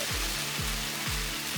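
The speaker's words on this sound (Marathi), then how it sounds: "घावन हे तव्याच्या साईडहून टाकत जायचं." Konkani ghavan rice batter spread on a hot iron griddle greased with onion and oil gives a steady, close, broadband sizzle and hiss, with faint low rhythmic sweeps beneath and no speech.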